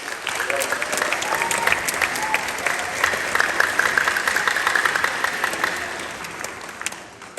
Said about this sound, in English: So if we could give a round of applause, students, for all of our parents.